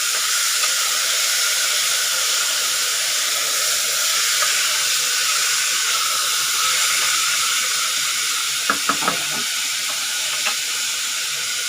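Rajma (kidney beans) lightly frying in a pan with masala for a gravy, a steady close hiss and sizzle throughout, with a few brief clinks of stirring near the end.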